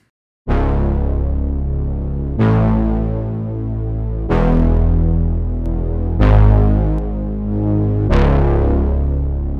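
A deep synth bass made in the Vital synth plays five sustained notes in a slow, even rhythm, each with a sharp attack and gritty harmonics from soft-clip distortion.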